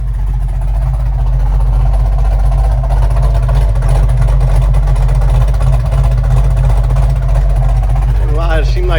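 A 1970 Challenger engine idling after a swap to an 850 double pumper Holley carburetor, a loud, steady, deep rumble throughout, with a voice coming in at the very end.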